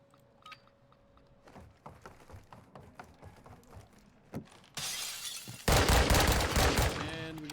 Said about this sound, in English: A stunned shot there coming out from Shift.